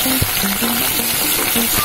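Chopped onions sizzle and crackle steadily in hot oil in a kadai for quail biryani, a close, continuous frying hiss with occasional stirring sounds.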